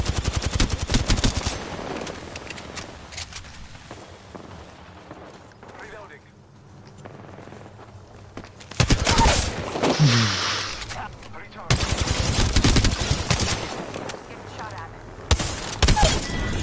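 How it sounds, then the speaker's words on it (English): Bursts of rapid Volt SMG fire in Apex Legends, loud dense automatic volleys at the start, middle and end, with quieter gaps of in-game ambience and a voice talking between them. "This guy cannot hit shots with the Volt."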